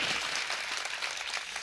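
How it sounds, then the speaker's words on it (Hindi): Crowd applause at an Indian kavi sammelan poetry gathering, a fairly quiet, distant wash of steady clapping with no speech. "एक बार जोरदार तालियां बजाइए"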